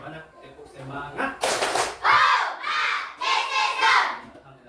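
A classroom of children performs a rhythmic spirit clapping chant, sharp group claps alternating with loud shouted syllables in several bursts, preceded by a few quieter voices.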